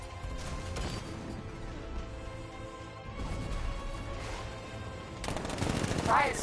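Heavy cannon fire from an unmanned tank in a Batman video game, a run of booming shots and crashes layered over dense battle noise, with a loud burst near the end.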